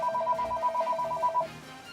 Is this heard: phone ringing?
yes